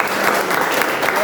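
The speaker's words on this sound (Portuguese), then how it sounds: "Você pode aplaudir o nome do Senhor Jesus? Aplaude forte para Ele." A church congregation claps together in sustained applause, a dense, steady patter of many hands filling the room.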